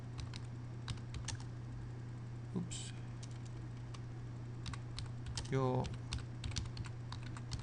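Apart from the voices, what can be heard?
typing on computer keyboard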